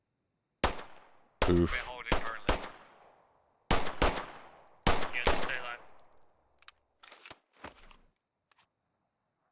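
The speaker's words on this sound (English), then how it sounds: "Looks like Sebi just ate a frag rocket." A frag rocket explosion and gunfire in the military shooter Squad ring out as a string of sharp, separate bangs and short bursts with ringing tails, loud then thinning out, and a brief grunted voice in between.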